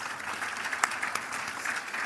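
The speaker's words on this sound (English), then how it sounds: "let's give our first guest a round of applause" Soft, fairly distant audience applause for a guest at a women's empowerment panel discussion, steady and brief with a couple of sharper claps standing out.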